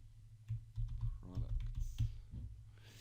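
Typing on a computer keyboard to enter a title, a quick irregular run of close, quiet key clicks with a few louder taps and faint voice in the background.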